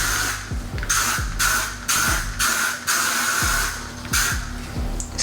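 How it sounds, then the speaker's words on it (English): Hairspray hisses in a quick series of short, close bursts, about eight or nine sprays in a loose rhythm. "I ain't shy to the spray"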